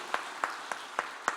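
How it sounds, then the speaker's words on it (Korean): A small church congregation gives encouraging applause, five or so distinct, fairly faint claps spaced evenly in a short burst. "우리 그분들에게 한번 격려 박수하겠습니다"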